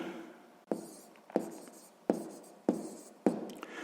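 A pen scratches across paper in a quiet room during a sixth-grade math exercise: five short, crisp writing strokes come in an even rhythm, close and soft, with no one talking.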